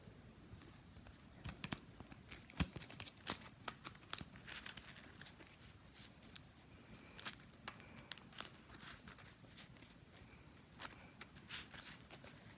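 A deck of Yu-Gi-Oh trading cards is shuffled by hand, a faint run of soft riffling clicks and papery flicks in uneven bursts over about twelve seconds.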